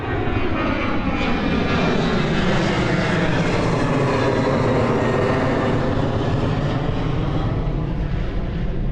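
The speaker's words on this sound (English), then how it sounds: "coming in on 30. Boliviana de Aviación with a 737-800" A Boliviana de Aviación Boeing 737-800 jet arrives at Miami airport, its engines producing a loud, continuous roar that swells and holds steady throughout.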